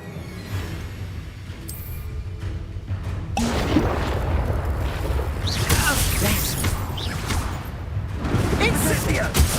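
Spell explosions and impact booms from Hogwarts Legacy combat, an Expulso blast among fire spells, sounding as loud dense crashes and rumbles layered over battle noise, with a voice talking over the action.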